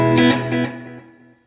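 A single electric guitar note or chord rings out through an Electro-Harmonix Vintage Deluxe Memory Man delay with the drive off, with quick echoing repeats that fade away over about a second and a half.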